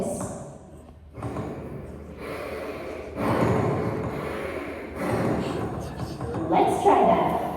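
A performer imitates horror-movie heavy breathing on stage, several long, loud, rasping breaths and snorts in a row with short pauses between them.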